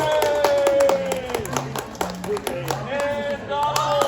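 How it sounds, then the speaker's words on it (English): People clap at Magic Kingdom during a character meet with Donald, with brisk scattered claps under a talking, cheering voice and some bright tonal sound in the background. "let's give them a little bit of round of applause there."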